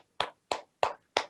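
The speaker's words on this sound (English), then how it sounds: "Let's give a big round of applause." Four sharp, evenly spaced hand claps ring out close and clear at a virtual celebration event, each one crisp and separate with silence between, rather than a sustained crowd applause.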